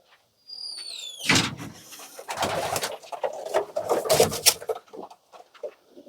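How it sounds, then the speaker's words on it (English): Pigeons coo softly inside a loft in a series of low, throaty calls mixed with wing flutters and shuffling, close by and fairly quiet. "All of Jeff's birds are absolutely gleaming in here"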